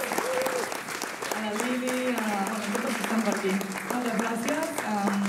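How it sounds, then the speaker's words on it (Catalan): An audience at the Jazzing Festival Sant Andreu 2023 jazz concert claps in a dense, steady burst of applause lasting the whole stretch, while a voice speaks over the clapping. "doncs el David, l'Albert, l'Aran, el Marc, un aplaudiment també per ells."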